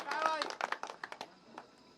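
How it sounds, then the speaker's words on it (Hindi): Brief scattered clapping from an audience at a poetry recitation honouring soldiers, fading quickly after a short burst, with voices over the start. "जोरदार तालियां भाई, वाह"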